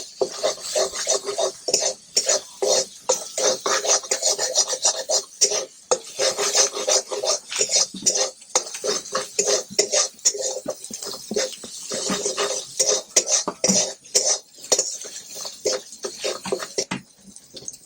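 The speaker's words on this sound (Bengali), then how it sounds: "এবার ভালো করে কষিয়ে নেব।" Spices with salt, turmeric and cumin powder sautéed in a kadai, a spatula scraping and rasping against the pan in busy irregular strokes, close and continuous with brief pauses.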